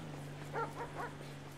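A police K9 dog in GTA V's LSPDFR mod gives a few quick, faint yips or barks in a row, heard over a steady low hum.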